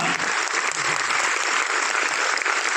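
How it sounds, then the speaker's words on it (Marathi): A crowd at a musical program bursts into sustained, loud applause, many hands clapping in a thick, even roar that holds steady throughout. "जोरदार टाळ्या झाल्या पाहिजे"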